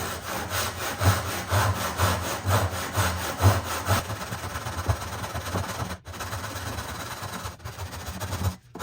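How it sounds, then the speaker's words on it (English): A hand saw cuts wood for a wedged through tenon joint with steady, even back-and-forth strokes, close and rhythmic, then the strokes become finer and smoother with brief pauses. "I just focus on keeping the blade, you know, no weird tension on the saw"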